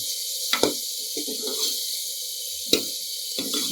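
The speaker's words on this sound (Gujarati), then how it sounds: "સેજ આપણે પાણી એડ કરીશું" Water added to a cooking pan of sizzling tomato tempering with coriander for Gujarati dal, with brief splashing pours and soft sizzle between them.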